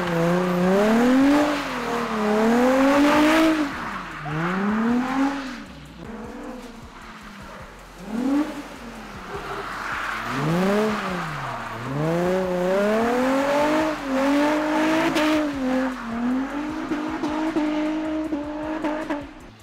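An Infiniti G35 drifting on track, its engine revving up and down in repeated rising and falling sweeps as it slides through corners, loud and close, with no talking.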